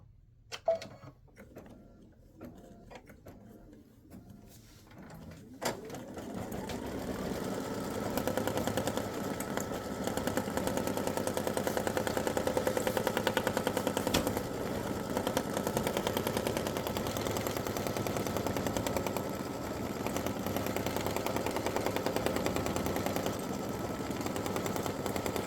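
A sewing machine runs a tack-down stitch on a greeting card project, starting with a few sharp clicks and taps, then a long steady rapid mechanical whir of stitching close by.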